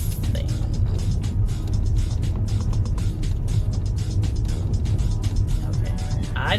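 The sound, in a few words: car driving through a park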